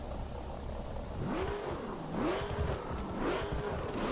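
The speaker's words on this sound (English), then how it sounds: "Camaro here does have a nice engine rumble you can hear in the background there." Chevrolet Camaro engine in The Crew racing game, a steady rumble with three rising-and-falling revs, moderately loud and continuous.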